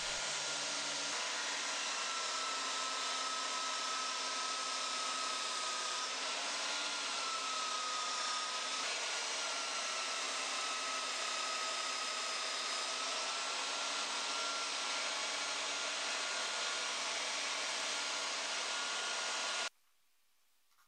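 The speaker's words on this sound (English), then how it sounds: "I can comfortably switch the belt sander on and off" A Makita 9404 belt sander mounted in a sander station with a tilting table runs loud and steady with a continuous motor whine and belt hiss, then cuts off abruptly near the end.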